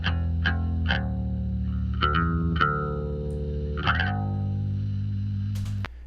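Compressed electric guitar with a gritty mid-range tone, several picked notes and ringing chords with sustained tails and some background noise, played alone without talk.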